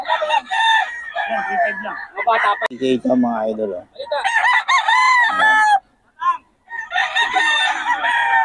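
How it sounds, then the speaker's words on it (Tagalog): Chickens crowing and clucking repeatedly, loud and close, with people talking over and between the calls. "Ano niya? Mga manok."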